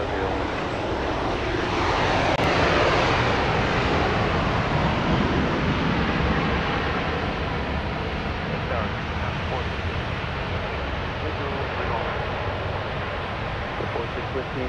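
A jet airliner roars in to land at Dallas Love Field, its engine noise loud and steady for the whole stretch, with broad wind-like rumble and a voice talking over it.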